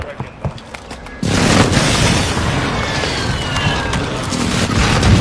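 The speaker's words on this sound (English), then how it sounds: "Friendly airstrike in the AO." An airstrike in a first-person shooter lands with a sudden loud boom that rolls into a long, dense rumble of blasts, following a few quieter game sounds.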